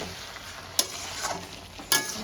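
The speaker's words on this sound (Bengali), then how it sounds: "এবার আমি ম্যারিনেট করা চিকেনটা দিয়ে দেবো" Marinated chicken sizzles in butter in a hot pan, a steady frying hiss broken by two sharp scraping stirs.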